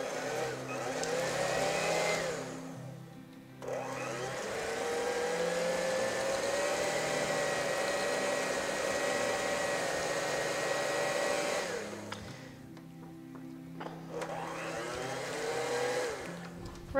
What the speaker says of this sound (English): Let's try with the whisk attachment. See how it works, if it works.